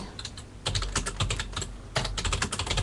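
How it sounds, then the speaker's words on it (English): Steady rapid typing on a computer keyboard, close and clear, with irregular bursts of key clicks continuing alone without speech. "I'm going to stop typing,"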